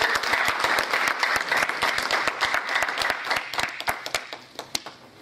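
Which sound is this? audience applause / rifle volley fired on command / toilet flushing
audience applause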